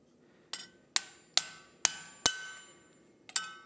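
A metal punch used as a cold chisel is struck by a hammer on soft metal, six sharp, close, ringing taps at uneven spacing, each decaying quickly against near silence.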